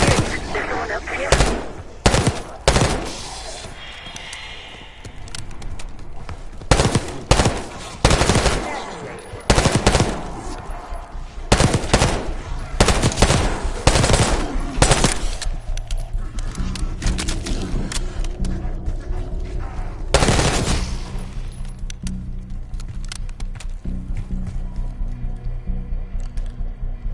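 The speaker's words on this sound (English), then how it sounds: "You hearing gunfire? Yes. Sounds like it's coming from one of the lower floors." Gunfire from the lower floors in Call of Duty Black Ops 6, with bursts of automatic fire and sharp shots in clustered volleys between quieter stretches, plus a steady mechanical hum underneath.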